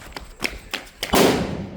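A medium-size firecracker explodes at home: a sharp, loud broadband blast followed by a sustained hissing roar. It comes after a few soft thumps, and excited voices call out around it.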